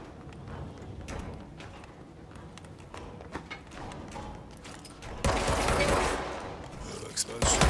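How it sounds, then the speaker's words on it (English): Explosions and crackling blasts in the video game Control, a steady wash of gunfire-like bursts swelling into a louder, denser burst near the end, with a voice speaking faintly beneath. "Ooh, explosions."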